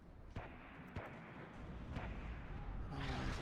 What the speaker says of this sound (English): T-62 now under fire by artillery.